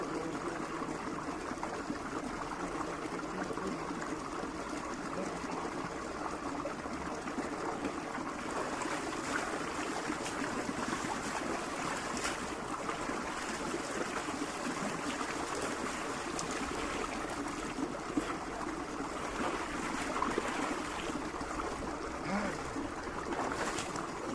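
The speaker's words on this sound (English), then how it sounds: "So guys, I'm now done with taking a shower." A shower runs steadily throughout, a continuous broadband hiss of spraying and splashing water, fairly close and unchanging, with no one speaking.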